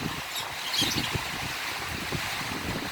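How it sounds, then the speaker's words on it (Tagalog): Steady strong wind roaring outdoors, a broad hiss with low gusty thumps against the microphone, no one speaking. "Dito yung hangin sa likod ko dyan."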